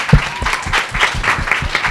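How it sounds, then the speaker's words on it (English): Audience applause for the author at a yoga book launch, a short burst of fairly close, loud clapping from a modest crowd. "So a huge round of applause for Manish."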